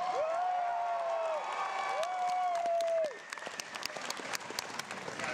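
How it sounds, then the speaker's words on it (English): A theatre crowd at a live comedy show in Vancouver's Vogue Theatre roars with applause and cheering. Long shrill whistles ride over the noise at first, then the dense, loud clapping of many hands carries on. "How about a round of applause for Mr."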